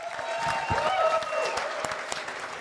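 An audience at a live Titanic anniversary event aboard the Queen Mary bursts into applause, a full, close wash of clapping with a few whistles and cheers.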